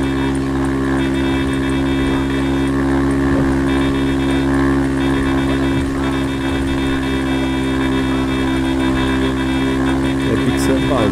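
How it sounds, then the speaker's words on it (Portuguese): A motorbike engine revving in GTA V, a steady loud drone of layered engine tones that holds throughout with slight swells in pitch as the throttle is worked. "Esticando a motinha."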